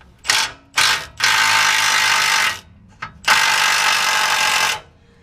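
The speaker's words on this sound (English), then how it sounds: "I am going to take out this bolt that adjusts the torsion key, and it's an 18 millimeter" A ratchet loosens an 18 mm torsion key adjusting bolt on a 2005 Chevy Avalanche truck, with several loud close bursts of rapid clicking, two short ones followed by longer runs and brief pauses between.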